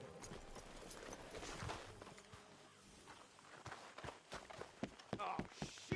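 Horse hooves clip-clop at a walking pace in the video game Red Dead Redemption 2, quiet and somewhat distant, with voices talking over them.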